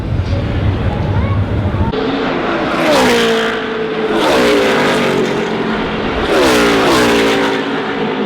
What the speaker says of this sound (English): Hearing these cars in person, mind-blowing.